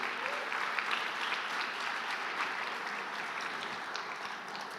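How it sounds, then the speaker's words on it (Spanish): A church congregation claps together in a continuous burst of applause during a Sunday service, dense and steady throughout with no pauses. "Denle un fuerte aplauso al Señor Jesús."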